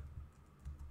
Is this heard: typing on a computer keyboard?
yes